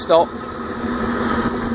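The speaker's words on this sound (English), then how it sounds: "She surges a little bit, the engine goes up and down" Bristol VR bus diesel engine running steadily with a slight surging rise and fall, a continuous rumbling drone throughout, briefly overlapped by a short spoken word near the start.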